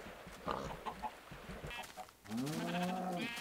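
Sheep bleating on a Minecraft farm stocked with cows, pigs and chickens: a few faint scattered animal calls, then a louder drawn-out bleat near the end.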